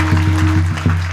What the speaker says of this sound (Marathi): टाळी वाजवा एकदा जोरात.